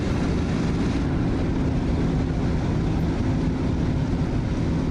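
Fw-190 warbird piston engine droning steadily in flight in the DCS combat flight simulator, a loud continuous low rumble with broadband roar and no talk.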